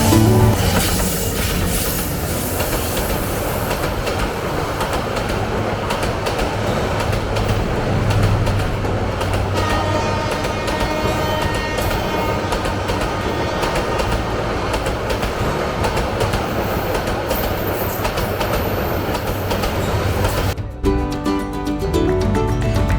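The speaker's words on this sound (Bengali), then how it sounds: "প্রতিদিন এই স্টেশন থেকে আন্তনগর, মেল এবং এক্সপ্রেস ট্রেন ছেড়ে যায়।" A train at Feni Junction railway station, a loud continuous rumble of rolling carriages with rhythmic wheel clatter and occasional squeal, running nearly the whole time before ending abruptly.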